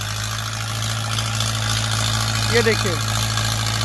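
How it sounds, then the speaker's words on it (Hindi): A Mahindra Yuvo 585 tractor pulls an 18-disc harrow in 4x2 drive across a cultivated field, its engine giving a steady, loud low drone throughout, with someone speaking briefly over it. "4x2 पर अभी ट्रैक्टर चल रहा है।"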